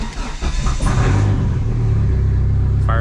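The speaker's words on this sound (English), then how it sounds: "Fires right up." A Dodge SRT-4 fitted with a two-step cranks briefly, then catches and settles into a loud, close, steady rumbling idle.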